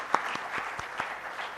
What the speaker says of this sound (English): I would like to ask you in joining me and with a great appreciation and a round of applause for our distinguished panelists